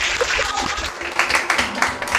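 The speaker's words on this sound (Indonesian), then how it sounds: "kita tepuk tangan" A classroom of students applauds after a group presentation, a brief, dense burst of many hands clapping at once, fairly close and steady.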